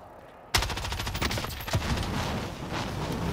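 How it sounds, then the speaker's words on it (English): Video game gunfire erupts suddenly after a quiet moment, then continues as a loud, dense volley of rapid shots and impacts, close and sustained. "I'm still getting shot at though"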